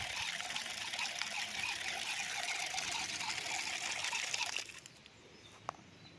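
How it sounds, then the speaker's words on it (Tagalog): Water from a farm water line gushes in a strong, steady hiss for several seconds, then drops away to faint background sound with a single soft knock. "ang lakas ng tubig."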